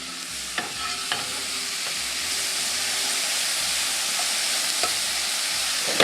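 Mushrooms browning and cooking down in a pan, giving a loud, steady, dense sizzle with a few faint utensil knocks, close and uninterrupted by talk.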